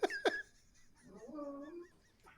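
A dog gives two sharp yips, then a drawn-out whining whimper that rises and falls, with a faint yelp at the end, all fairly quiet and close, with no talking.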